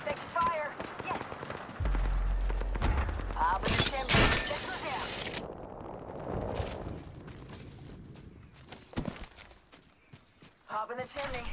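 Gunfire in Apex Legends on Kings Canyon: a dense burst of shots for about two seconds near the start, then scattered impacts and effects, with players talking throughout.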